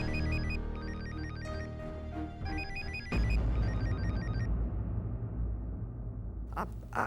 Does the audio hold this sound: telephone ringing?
yes